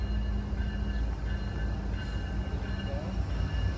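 A CSX locomotive train rolls slowly southbound past the listener, a steady loud rumble with engine hum and faint squealing, while a person speaks over it.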